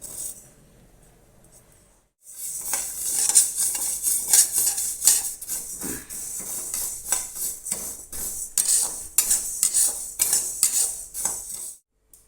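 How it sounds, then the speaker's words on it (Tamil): Curry leaves dry-roasted in a pan for sambar powder, a metal spatula clinking and scraping repeatedly against the pan in quick, busy strokes after a quiet start. "கருவேப்பிலை வறுத்துக்கிறேன்"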